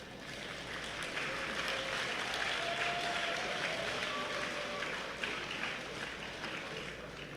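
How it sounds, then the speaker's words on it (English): An audience at a historical marker unveiling ceremony applauds the high school band, a broad sustained wash of clapping heard from some distance, steady throughout with no speech on top. "How about a round of applause for the Ware Shows High School Band?"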